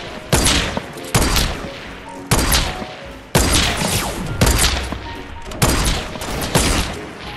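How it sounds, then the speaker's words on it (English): Loud, close bursts of Fortnite gunfire come in rapid volleys, about seven strings of shots with brief gaps between them and no talk over them. "How did I missed every shot."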